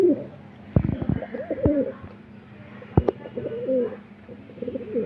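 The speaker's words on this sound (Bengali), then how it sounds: "এই দেখো ডাক দেখো এই পায়রাটার" A pigeon coos in repeated low, throaty phrases close by, with a few sharp taps or flutters mixed in, in a quiet room with no talk.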